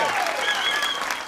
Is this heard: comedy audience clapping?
yes